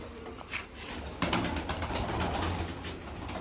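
Pigeons kept in a loft coo and call in a short, steady sequence, with a burst of broader rustling or shuffling noise joining partway through and continuing under the calls.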